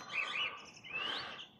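Birds singing at about four in the morning, with two faint, high chirping phrases carrying alone from a short distance.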